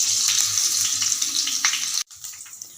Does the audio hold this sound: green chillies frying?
yes